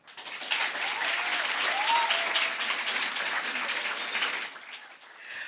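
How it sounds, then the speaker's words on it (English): Sustained applause from an audience at an impromptu speaking competition, steady and loud throughout, tapering slightly at the end. "Another round of applause for her."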